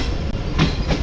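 Tezgam passenger train rolling into Wazirabad Junction, a steady close rumble of carriages with rhythmic clacking from the wheels, heard from on board with no talk.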